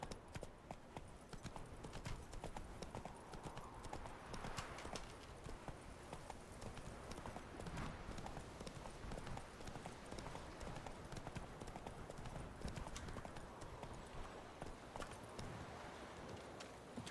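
Roach the horse's hooves clip-clop steadily at a trot in The Witcher 3 video game, a continuous, even rhythm of fairly quiet hoofbeats over faint ambient game sound.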